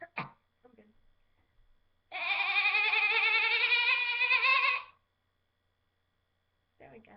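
A woman imitates a goat with her voice, a single sustained, quavering bleat held for nearly three seconds, close to the microphone in a quiet room, with brief breaths and throat sounds before and after.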